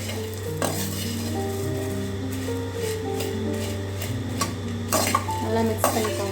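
Masala pori, puffed rice with a few drops of coconut oil, being mixed in a bowl with a metal spoon, with steady scraping and repeated close, bright clinks against the bowl over a constant low hum.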